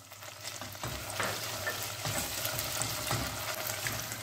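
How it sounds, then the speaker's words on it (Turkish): Tomato paste sizzles and fries steadily in a pan for an onion and meat stew, with occasional stirring scrapes, close and continuous with no talk. "Ve salçamın güzel bir kavrulmasını bekliyorum."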